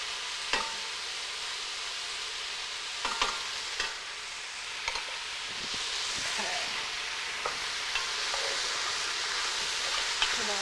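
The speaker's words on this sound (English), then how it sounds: "Give all this a nice stir." Mushroom stew sizzles in a pan as it is stirred, a steady frying hiss broken by scattered scraping clicks of the spoon, close and continuous for several seconds.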